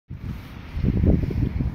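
Strong wind buffeting the microphone, a low rumbling roar that builds and stays loud for a couple of seconds.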